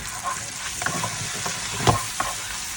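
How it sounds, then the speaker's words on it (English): Butter sizzles with garlic and oyster sauce in a pan, a steady frying hiss broken by a few scraping stirs and one louder clank of the utensil, no voices. "In the same pan, you add 50 grams of butter and your garlic, oyster sauce. Saute it very well."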